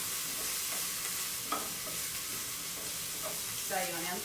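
Leftover dry pasta fries and browns in a pan for a frittata, a steady close sizzle with occasional stirring clinks and scrapes, without talking.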